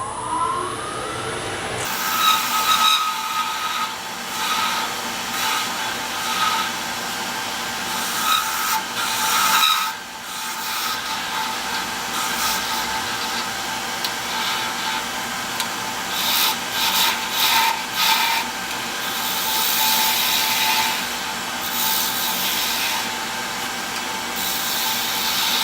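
A wooden pen blank spins on a lathe while a turning tool cuts it, giving a continuous scraping, rasping whir with a steady motor hum, broken by short pauses and bursts of sharper cutting noise.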